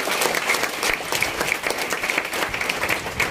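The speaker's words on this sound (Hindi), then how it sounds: "मिस्टर दीपक प्रसाद के लिए चाहूंगा जोरदार ताली होना चाहिए।" An audience at a marketing company event in Virar, India applauds loudly with continuous, fairly close clapping throughout.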